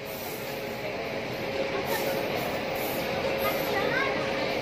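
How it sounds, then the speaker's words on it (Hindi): The Paschim Superfast Express from Vapi to Chandigarh pulling into a station, with a continuous loud rolling rumble and a faint steady tone, overlaid with voices nearby. "देखो गाइस, ट्रेन आ चुका है हम लोग का।"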